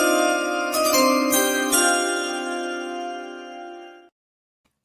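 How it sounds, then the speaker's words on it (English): A ringing chime sequence marks a draft pick announcement, several bright bell-like strikes layered into a sustained harmonic tone that decays over about four seconds before cutting to silence. "let's play the chimes"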